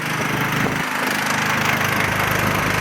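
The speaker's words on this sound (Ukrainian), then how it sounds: "генератор пішов в нагрузку, коли насос запустився, хай працює" A MAX MXGG30 petrol generator runs steadily under load with a pump connected, giving a continuous, fairly loud engine drone with no pauses.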